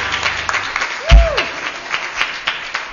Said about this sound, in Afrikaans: Kan ons vir hierdie kinders net 'n hande klap gee,